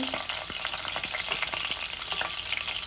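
Fenugreek, bay leaf and dried spices frying in hot oil, a steady close sizzle with scattered crackling pops throughout and no voices.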